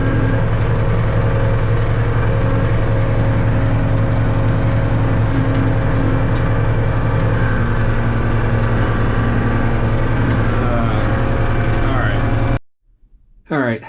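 A truck with an A4T transmission drones steadily from the cab while driving, a loud, even engine hum that holds for about twelve seconds before cutting off abruptly.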